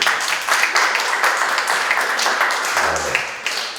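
Workshop audience clapping in a room, a bright patter of many hands rising and falling over several seconds, with a brief low voice murmur partway through.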